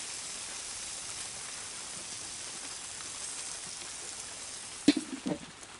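Steady rain falling outdoors beside a grill during a Fourth of July cookout, a soft continuous hiss throughout with a few louder close patters or knocks near the end.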